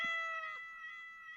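A cat gives a single clear, drawn-out meow close to the microphone, tonal and slightly falling, then fades into quiet room tone.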